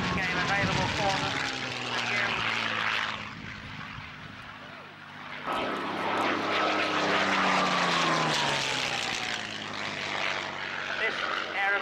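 A Messerschmitt 109 propeller fighter flies past at an air show, its engine a loud, sustained drone that rises and shifts in pitch as it passes, with a commentator talking over it throughout.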